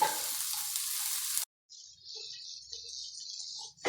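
Tomatoes fry in a pan for chicken curry with a loud, close sizzle; the hiss cuts out for a moment, then returns thinner and steadier as the pan is stirred.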